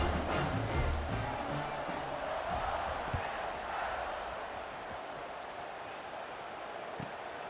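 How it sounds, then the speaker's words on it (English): Stadium crowd noise in EA Sports College Football 26, a broad roaring murmur of fans with occasional cheers, loudest at first and settling into a steady distant wash. "this crowd is feeling themselves after that last drive"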